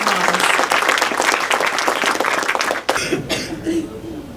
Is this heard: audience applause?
yes